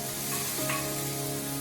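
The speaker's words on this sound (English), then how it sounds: "You actually want to fry off your noodles." Chow mein noodles frying in a hot wok, a loud close sizzle and crackle with a brief stirring scrape partway through, continuous and without talk.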